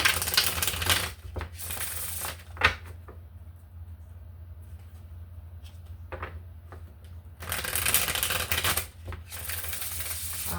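Tarot cards shuffled by hand during a reading, with brisk riffling bursts near the start and again near the end and quieter handling between; no talking.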